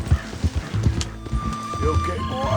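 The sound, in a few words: horse in Red Dead Redemption 2 video game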